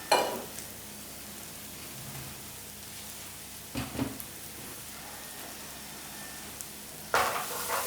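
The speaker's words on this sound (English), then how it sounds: "Everything's cooking nice and gently in the pan" Spices and onion paste cook gently in oil in a pan for an aubergine curry, giving a soft, steady sizzle broken by a few brief stirring scrapes near the start, middle and end.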